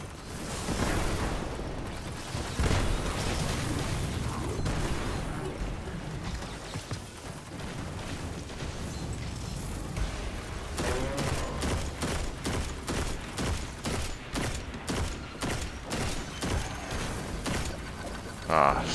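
An explosion in the video game Destiny 2, a dense roaring blast that gives way to a rapid series of popping bursts, loud and close, with no talk over it.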